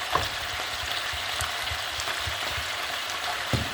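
Lamb meat frying and being stirred in a pan with thyme and salt, a steady close sizzle with soft scraping stirs and a couple of sharper clinks.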